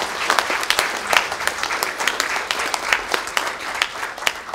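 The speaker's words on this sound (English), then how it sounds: "Yes, we can, and should clap" Lively audience clapping at a benefit evening, a loud, dense and continuous patter of many hands with crisp individual claps standing out, close and without talk.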